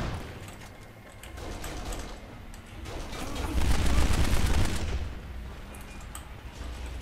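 Gunfire from a weapon in the co-op game Kane & Lynch: a dense, rumbling stretch of rapid shots and impacts that swells in the middle, with a brief voice heard.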